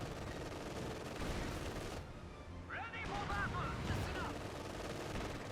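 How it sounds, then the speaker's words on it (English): Anti-tank guns fire on a bunker in a Company of Heroes 2 battle on the Lienne Forest map, with a burst of rapid gunfire and booming shots over ongoing battle noise. A commentator talks throughout. "AT guns open up very nicely on that bunker"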